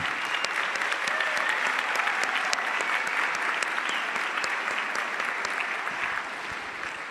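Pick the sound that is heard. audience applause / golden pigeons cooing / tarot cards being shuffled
audience applause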